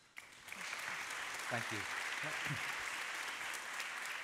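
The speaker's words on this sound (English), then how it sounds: "Can we just get another round of applause, actually, please?" Audience applause for the speakers at a live talk session, steady sustained clapping from a crowd that continues for several seconds while a voice speaks briefly over it.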